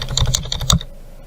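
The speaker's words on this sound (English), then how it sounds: "so we're going to click Enter 7 times" Several quick keystrokes tap on a computer keyboard, a close, crisp run of Enter key presses in about a second, then quiet.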